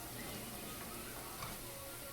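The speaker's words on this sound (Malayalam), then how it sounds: "നമ്മുടെ മഷ്റൂമും ക്യാബേജും കൂടി നമ്മൾ ഫ്രൈ ചെയ്യാനിട്ടത് റെഡി ആയിട്ടുണ്ട്." Mushroom and cabbage frying in oil, giving a continuous soft sizzle with a faint crackle that stays even and quiet from start to finish.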